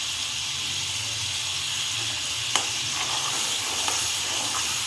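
Masala with chili powder and salt for sev bhaji, sizzling in oil in a pan while being stirred, a steady close frying hiss with one sharp scrape of the spoon partway through.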